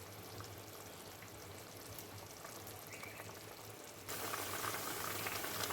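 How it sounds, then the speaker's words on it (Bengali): Pabda fish curry with potato and eggplant simmers under a lid in a pot, a soft continuous bubbling hiss that stays even, then grows a little louder and brighter toward the end, with no talking. "এবার ভালো করে ঢাকা দিয়ে ফুটিয়ে নেব।"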